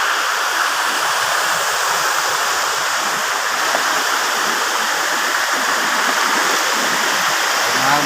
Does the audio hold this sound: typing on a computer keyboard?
no